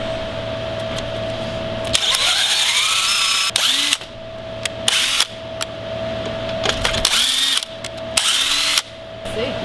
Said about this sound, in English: This is the special drill bit that we're going to use. Creates the pocket hole. And basically we're just going to drill down into there.